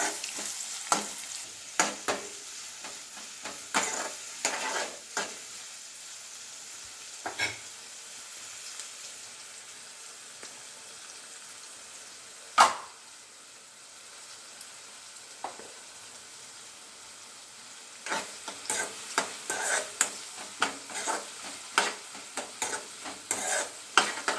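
Large onions frying in a pan for dried-fish gongura curry, a soft continuous sizzle broken by sharp scraping strokes of a spoon stirring, clustered in bursts with quieter gaps, no talking.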